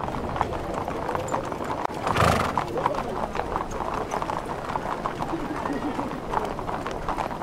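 Hooves of about seventy cavalry horses clip-clop steadily during a state welcome at the presidential palace for Australia's prime minister, a continuous dense patter with a brief louder burst, while speech runs over it.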